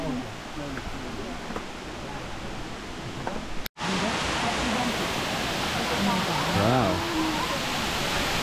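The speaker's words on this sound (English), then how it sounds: "So stop two, Canto Lampo Waterfall." Kanto Lampo waterfall in Ubud, Bali roars as steady broadband rushing water, continuous and close, briefly cut near the middle before resuming louder.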